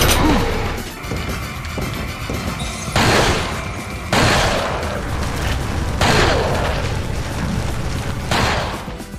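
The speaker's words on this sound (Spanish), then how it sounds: "Además, el sonido del disparo es diferente." Gunfire in the Resident Evil 4 video game, a series of sharp, loud shots and booming impacts spaced a second or two apart over a busy background of game noise.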